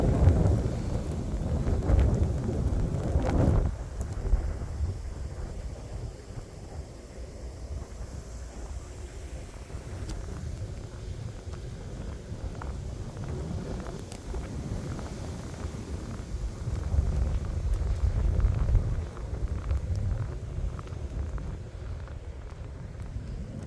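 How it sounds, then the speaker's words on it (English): Strong gusts of wind sweep through during a major winter storm with lake-effect snow in Valparaiso, Indiana, a rough roaring rush that swells hard at the start and again later, buffeting close throughout without talk. "It's a big gust."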